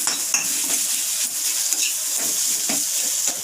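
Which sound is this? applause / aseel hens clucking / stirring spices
stirring spices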